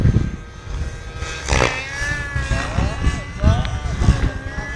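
Hirobo SDX radio-controlled helicopter engine running in strong wind, a steady droning buzz with wavering whine tones and gusty rumble, heard close alongside someone talking.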